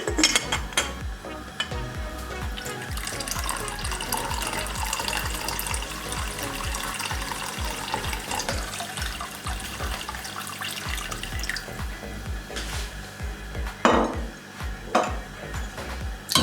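Strained kahwa tea is poured into a pan, a steady watery pour and splash with light clinks of the pan, close and continuous, with no talking.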